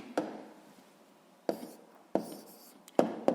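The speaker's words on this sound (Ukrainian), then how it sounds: "записуємо відповідь." Pen writing down an answer to a physics exercise on paper, short scratchy strokes in four separate bursts with quiet gaps between them, close and fairly soft.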